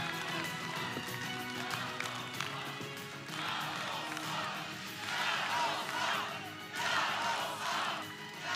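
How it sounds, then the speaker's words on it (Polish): Rally crowd at a Law and Justice (PiS) political event applauding and cheering as party leader Jarosław Kaczyński is introduced, a dense sustained roar of clapping and shouting that swells in waves. "Ogromne brawa!"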